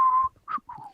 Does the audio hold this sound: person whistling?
yes